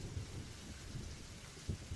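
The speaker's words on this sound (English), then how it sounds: "I know it's raining" Steady rain falls in a video game set at a lake pavilion, a continuous hiss of drops with low rumbling swells underneath, fairly faint and even.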